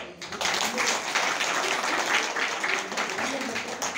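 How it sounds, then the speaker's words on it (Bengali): A village workshop audience breaks into a big round of applause that swells quickly and then holds as a dense, even clatter of many hands, with a voice faintly audible beneath it. "এই তাহলে 4 জনের একটা বড় হাততালি হোক।"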